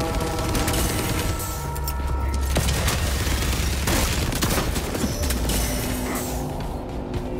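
Explosions and gunfire crackle in a PvP match of the Warhammer 40K Space Marine 2 video game, including a thrown grenade. Several heavy booms and bursts of shots overlap in a loud, continuous battle din.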